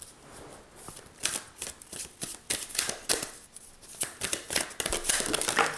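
Secret Language of Light oracle cards being shuffled by hand, a steady run of crisp riffling and flapping bursts close to the mic, repeating irregularly for several seconds without speech.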